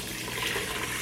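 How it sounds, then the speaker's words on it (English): Water poured steadily into a meal-prep cooking pot, a continuous close hiss and splash with no pauses. "So you just add the water in it."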